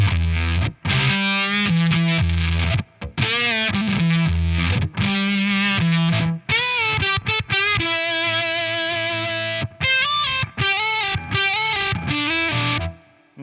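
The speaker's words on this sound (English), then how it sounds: "Now, we have another octave there. This is going to be a fuller octave sound." Electric guitar played through a fuzz pedal set for a full octave tone, with thick distorted notes and chords played continuously with short gaps, loud and upfront and alone, with a raised noise floor.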